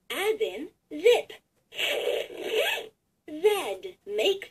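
A LeapFrog Touch Magic learning toy plays short bursts of a zipper sound, mixed with its recorded toy voice, in several separate pulses with brief silences between them.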